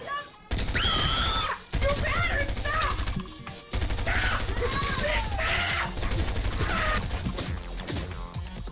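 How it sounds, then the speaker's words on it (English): Gunfire in the video game Fortnite, rapid bursts of shots clattering loudly through a chaotic match, mixed with game effects and overlapping voices talking and shouting. "Who's shooting at me?"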